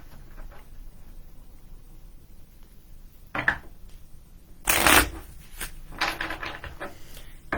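Goddess oracle cards being shuffled in quick papery bursts, a soft riffle followed by a louder, denser flurry of flicking cards and a few lighter taps, close by and without speech.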